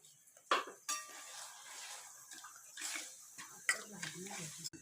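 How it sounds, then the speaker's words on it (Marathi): A spoon stirs sugar into grated ginger with a little ghee in a pot, giving faint intermittent scrapes and clinks against the metal, with a few sharper knocks scattered through. "हे चांगलं आता ढवळत राहायचं"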